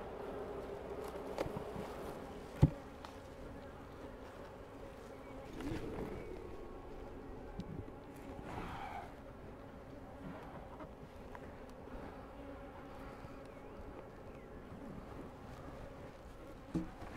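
Honeybee colony buzzing around an open hive, a faint steady drone with occasional louder passes of individual bees near the microphone and a few sharp knocks.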